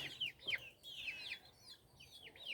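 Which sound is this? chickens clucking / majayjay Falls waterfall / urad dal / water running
chickens clucking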